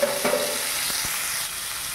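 Pieces of elephant apple hit a little hot oil in a pan, giving a continuous bright sizzle with a few soft stirring knocks, close and steady with no voices.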